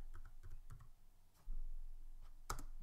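Typing a plugin search on a computer keyboard in the WordPress back end, a quick run of light, close key clicks with short pauses and a sharper final tap.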